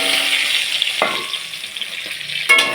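Taro and potato pieces frying in oil seasoned with panch phoron and mustard seeds, a close, steady sizzling hiss broken by a few sharp utensil clinks and scrapes.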